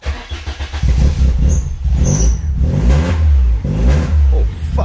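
A Citroen AX GT engine with a newly fitted MaxxECU cranks and catches, then revs in rough surges, loud and close, with the idle chugging between pushes of the throttle.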